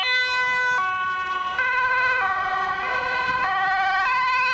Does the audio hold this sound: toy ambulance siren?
yes